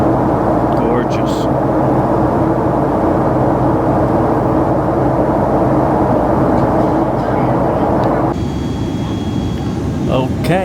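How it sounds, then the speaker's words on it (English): Loud, steady engine roar and rushing air inside the cabin of a Delta Airbus A330 as it lands in Atlanta, continuous throughout with a shift in tone near the end, voices talking faintly beneath. "here we are landing in Atlanta"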